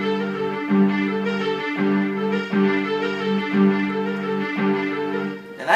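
A digital piano set to a strings tone plays a slow sequence of sustained, layered notes with an even, moderately loud pulse and a new chord every second or so, with no voices.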